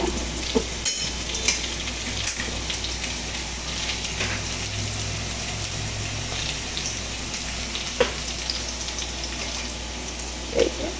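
Spice paste for rohu fish curry frying in oil with a splash of water, a steady dense sizzle and crackle filling the clip, with a few sharp spoon knocks against the pan, close and without talk.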